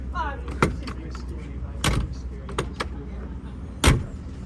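Doors on a Volvo with 53,000 miles are swung and shut at an outdoor car meet, with several sharp thumps and clunks spaced out against a steady background hum and chatter.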